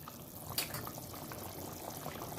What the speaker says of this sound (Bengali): দেখুন আমার ঝোলটা কিন্তু খুব ভালো করে ফুটে গেছে